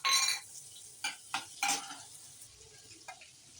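Butter and oil sizzle in a heated kadhai for paneer ghotala: a sharp burst of frying at first, then brief sizzles and a few spoon scrapes that fade off.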